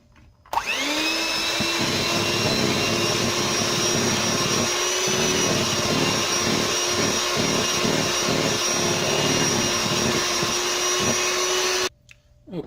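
Electric mixer whirring steadily as it blends no-bake cheesecake filling, a loud continuous motor drone with a rhythmic churning pulse underneath, starting and stopping abruptly, close and alone.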